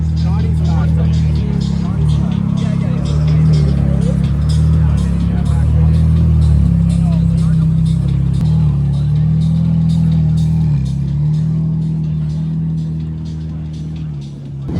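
Ferrari 430 Scuderia pulling in at a Toronto supercar meet, its engine a loud, steady low rumble that swells slightly mid-clip and eases off toward the end, with people talking over it.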